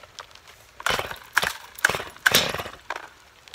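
A Stihl MS250 chainsaw being started outdoors in rain, several loud pull-cord rasps in rhythmic succession, sputtering without steady running.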